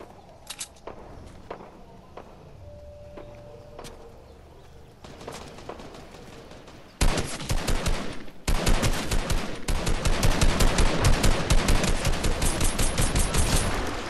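Scattered clicks and short bursts in Fortnite give way to loud, rapid gunfire, sustained volleys of shots crackling in a fast rhythm toward the end.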